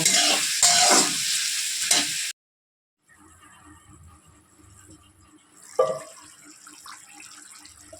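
Onions fry and get stirred for Bengali mutton kosha, a loud dense sizzle with scraping stirs that cuts off abruptly, followed by a quieter stretch of faint cooking noise and another stir, with no talking.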